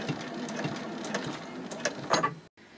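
A sewing machine back stitches at the end of a seam on a sling with a D-ring: a steady, fast mechanical whirr with rhythmic needle clatter, close and alone, stopping abruptly.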